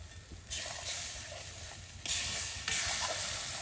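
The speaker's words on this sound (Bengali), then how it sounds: "একটু ভাজতে হবে কাঁচা কাঁচা গন্ধ না খায়" Turmeric spice paste thinned with a little water frying in hot oil, a steady broadband sizzle and hiss that swells in two louder bursts, close and continuous with no talking.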